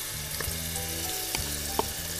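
Ginger, spice, onion and garlic paste frying in a pan for a vegetable biryani, with a constant hiss of sizzling and a few soft stirring scrapes of the spoon against the pan.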